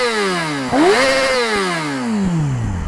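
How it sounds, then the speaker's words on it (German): A motorcycle engine is started and given some throttle: one close, loud rev climbs in pitch and then winds back down toward idle, with no voices over it. "Wir lassen das Motorrad an und ich werde ein bisschen Gas geben, okay?"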